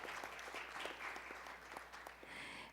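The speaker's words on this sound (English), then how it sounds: "Please welcome her with a big round of applause" An audience at a security forum applauds, sustained even clapping filling the hall at a modest, somewhat distant level.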